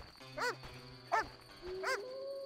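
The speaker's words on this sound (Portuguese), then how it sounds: "Outra coisa é esses cachorros aqui" Dogs bark in The Witcher video game, three short yipping barks spaced about a second apart over a steady low ambient background, moderately close.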